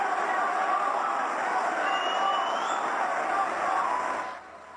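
A conservative crowd cheers and roars at a political speech about building the border wall, a sustained broad swell of voices that tapers off at the end.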